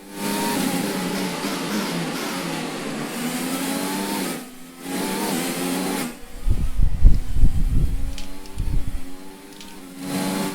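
An F1 car engine in the racing game F1 2020 whines at high revs with shifting pitch, dips briefly, then returns with rumbling bursts and surges, loud and close, with no talking.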